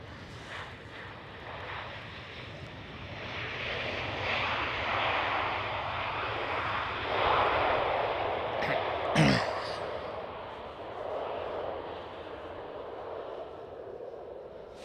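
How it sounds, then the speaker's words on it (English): German Airways Embraer E190 jet flying for KLM Cityhopper at Schiphol, Amsterdam, a moderate engine roar that swells as the aircraft passes and then eases off, with a brief sharp knock partway through. "German Airways E190 flying for KLM Cityhopper."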